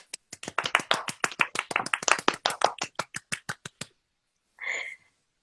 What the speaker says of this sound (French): C'est le moment de faire un tonnerre d'applaudissements.